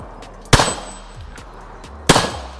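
Two sharp, loud 9mm gunshots from a Glock 17 Gen 5 clone firing 147 grain rounds ring out about a second and a half apart, each a hard crack trailing into a brief echo.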